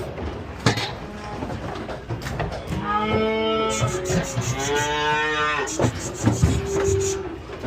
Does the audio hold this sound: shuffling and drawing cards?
no